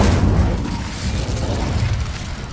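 Incendio fire spell cast in Hogwarts Legacy, a low rumbling whoosh of flame that swells at the start and then holds as a steady, dense roar with no voices.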